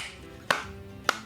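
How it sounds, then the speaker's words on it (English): Two light, sharp hand claps spaced about half a second apart, fairly close and isolated over a quiet background hum. "You can hear like some light clapping"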